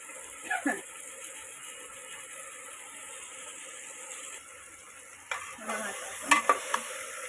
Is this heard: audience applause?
no